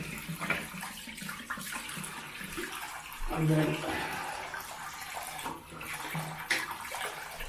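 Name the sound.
water running into a sink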